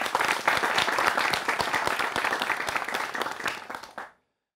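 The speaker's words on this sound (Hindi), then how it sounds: "इनके लिए भी ताली होनी चाहिए" A studio audience of university students claps loudly on a televised discussion show, brisk overlapping hand claps that run steadily for about four seconds and then cut off abruptly into silence.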